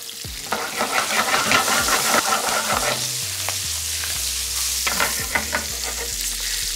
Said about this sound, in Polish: A na patelnię wrzucam cebulę,